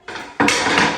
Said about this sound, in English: I'm just going to assemble it by putting the dowels in one side